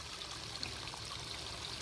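Faint, steady gurgle of irrigation water flowing along a field channel, a soft continuous trickle with no voices.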